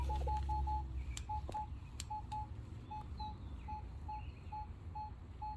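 A Minelab Equinox 800 metal detector gives a repeating high, clean target tone, short beeps at a steady rhythm, faint over low outdoor background rumble.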